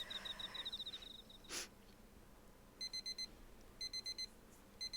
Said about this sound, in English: I smack my alarm clock and roll over onto the floor.